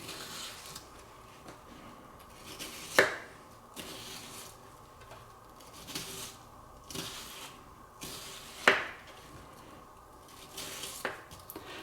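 A knife taps regularly against a cutting board while scoring a red onion into wide, chunky pieces. A few sharper knocks stand out among the softer, evenly spaced cuts.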